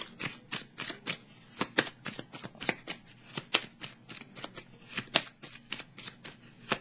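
Belline tarot cards being shuffled close by in a steady run of quick crisp riffles and soft slaps, with no talking over them.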